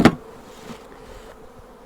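A sharp knock at the start, then a soft, steady buzzing of honey bees from a caught swarm droning on close by as they are brushed off a hive box rim.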